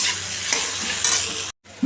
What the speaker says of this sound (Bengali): বাবা এই আলু ভাজাটা তো তুমি ভালোবাসো সেই জন্যই করছি